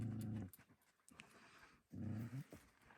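A female Bully Kutta dog, noted as aggressive and quick to fight, gives two low rumbling growls separated by huffing breaths and panting, close by and fairly quiet.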